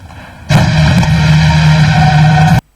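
Continuous dense rumbling crackle of New Year's Eve fireworks in Uganda, loud and sustained for about two seconds with steady booming bursts, then cut off abruptly; no talking.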